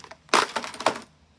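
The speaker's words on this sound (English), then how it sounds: "starts off with the front motor casing just shatters" A plastic motor casing on a Blaupunkt 9-inch desk fan shatters under a smash, giving a sharp crack followed by a few quick crunching, splintering bursts before falling quiet.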